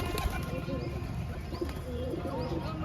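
An injured pigeon cooing softly in repeated low murmurs close by, with a few chirps from other birds in the background.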